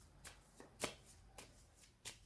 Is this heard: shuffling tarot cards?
yes